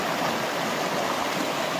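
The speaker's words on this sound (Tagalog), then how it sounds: "ang tubig na umaagos" Steady broadband rush of a clean river flowing through remote countryside in Davao Oriental, continuous and fairly loud with no voices over it.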